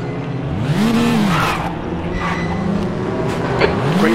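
A touring race car in the Raceroom racing game, a WTCR 2019 race at Zolder, drones loudly and continuously, with the engine pitch rising and falling through gear changes under a steady roar.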